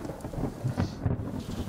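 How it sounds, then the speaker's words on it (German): Heavy storm at the edge of a salt flat, with loud continuous rain and rumbling thunder swelling in low rolls, close and enveloping, with no voices. "Schwerer Sturm."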